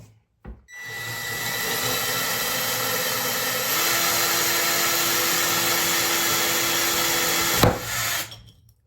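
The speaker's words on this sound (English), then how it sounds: "I can feel that it's going through the ceramic and it's doing its job properly" A power drill whines steadily while drilling through a wet ceramic pot for several seconds, starting after a short knock and cutting off abruptly near the end.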